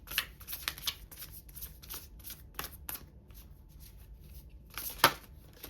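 Large oracle cards being shuffled by hand during a pick-a-card reading, giving a run of crisp riffling flutters and soft slaps, loudest in a sharp burst near the end, with no talking.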